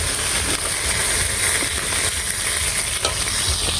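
Fish sizzles and spits steadily in hot oil in a pan, a dense continuous frying hiss with small crackles, close and loud, with no talking.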